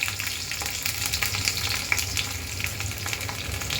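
Garlic fries steadily in hot oil for a palak paneer base, a dense continuous sizzle with faint scattered pops and light stirring scrapes, close and even throughout.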